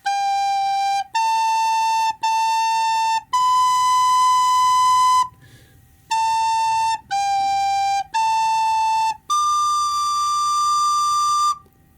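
A recorder plays a melody as eight clear, loud sustained notes, several short and evenly spaced and two held longer, with a brief pause in the middle; no voices.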